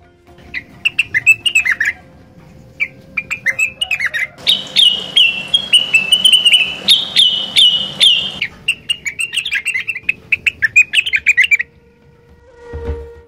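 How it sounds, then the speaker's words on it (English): Male orange-spotted bulbul calling in a mountain setting, giving repeated resonant, rough, firm notes in bursts, with one longer sustained run in the middle and a brief pause near the end; loud and close, no talk. "The male orange-spotted bulbul voice is resonant, rough, and firm."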